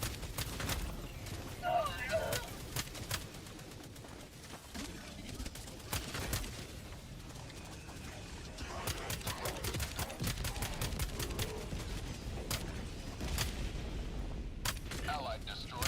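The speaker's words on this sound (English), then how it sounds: "Who the fuck is shooting me?" Helldivers 2 gunfire, dense bursts of rapid automatic shots and booms across a noisy battlefield, mixed with voices talking over the action.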